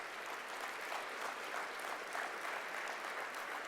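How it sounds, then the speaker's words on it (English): An audience at a recycling industry association convention gives a big round of applause, a soft, distant, even wash of many hands clapping with no break. "How about a big round of applause?"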